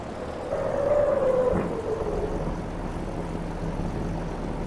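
A heavy loaded truck drives up a farm road, its engine a steady low rumble with a rising whine early on that fades back into a constant droning hum.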